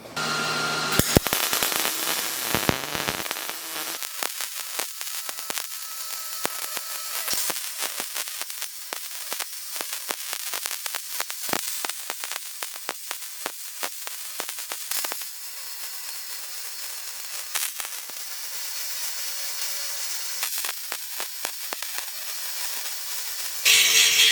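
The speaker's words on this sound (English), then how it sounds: "I'm gonna go ahead and get all of this welded up" MIG-style welding with shielding gas on a steel storage cart for metal stock, a harsh crackling buzz that runs in long, steady bursts with sharp pops and a few short pauses.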